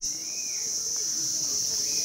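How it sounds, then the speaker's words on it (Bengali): A bird calls near a monastery amid a loud continuous insect drone, with a few soft, brief calls over steady outdoor ambience. "শুনুন পাখির ডাক"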